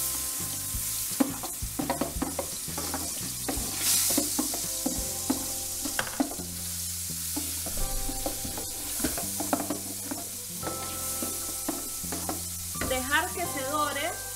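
Blended garlic and onion sizzle in a hot pan while a utensil stirs and scrapes, giving a busy crackling fry with irregular clinks and bursts throughout and no voice over it.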